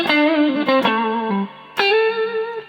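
Electric guitar through a LEKATO B-Breaker pedal with a slight crunch, playing a few sustained chords and notes with a short gap before a final ringing strum, close and fairly loud.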